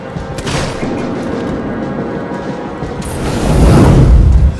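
Loud booming gunshots in the video game Alien: Isolation, with a sharp blast early and a heavier rumbling shot toward the end.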